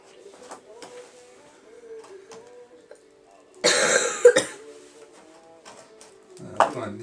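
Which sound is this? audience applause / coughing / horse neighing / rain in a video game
coughing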